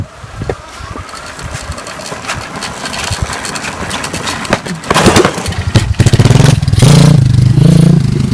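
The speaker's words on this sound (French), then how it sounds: "on va pousser fort et pour pouvoir démarrer la dirt, et dès que le pilote sent, il lâche l'embrayage et il donne un coup de gaz" A dirt bike being push-started: rattling and clatter as it rolls, then the engine catches and fires into loud, close, buzzing revs that rise and hold toward the end.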